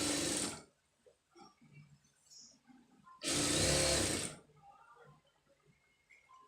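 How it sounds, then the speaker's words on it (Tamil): A sewing machine stitches embroidered blouse fabric in two short whirring bursts, separated by quiet handling noises. "பார்த்துட்டு இதுக்கு நேர வந்து ஒரு தையல் போட்டுருங்க"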